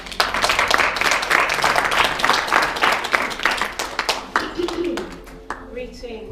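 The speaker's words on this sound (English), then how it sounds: "Can we give her a round of applause?" An audience at a talk on debt bondage and reparations claps for an incoming speaker, dense applause that gradually thins into scattered claps, with a voice breaking in near the end.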